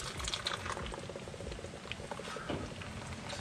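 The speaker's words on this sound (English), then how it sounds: "Just pour it in there," A full can of mid-strength beer is poured into a bowl of batter for beer-battered mackerel, a steady close fizzing, bubbling pour lasting a few seconds.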